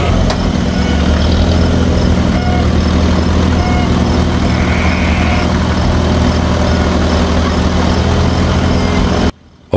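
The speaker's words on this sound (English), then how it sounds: "let's see if this tractor can lift that engine and the engine hoist" Old tractor idling loudly nearby while lifting an old Y-block engine and an engine hoist off a trailer, a steady heavy low engine drone throughout, cutting out abruptly just before the end, with no talk.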